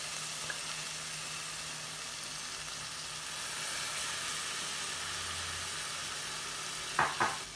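Chicken noodles sizzle and fry in a pan with a steady hiss as soy sauce is added, followed by a few clinks of stirring near the end.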